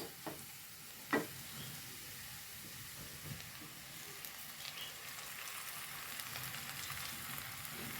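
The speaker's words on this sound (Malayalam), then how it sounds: "ഇനി ഞാൻ ഇതിലേക്ക് മുരിങ്ങലയാണ് ഇട്ട് കൊടുക്കുന്നത്" Moringa leaves are tipped into a pan of softened frying onions, a quiet continuous sizzle and hiss with a sharp clink near the start and faint stirring scrapes.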